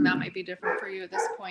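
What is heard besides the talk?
dogs barking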